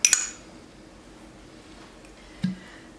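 A metal spoon clinks twice against a bowl near the start while plating hummus topped with chickpeas, followed by a quieter single knock about two seconds later, all with no talking.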